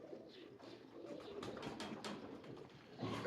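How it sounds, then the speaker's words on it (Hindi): A prized pigeon coos softly in a few low, murmuring calls, faint and close against a quiet background. "ये बड़ा बेहतरीन कबूतर है"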